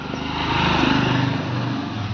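A scooter engine runs steadily nearby, with a loud, even buzzing hum that holds without revving for about two seconds.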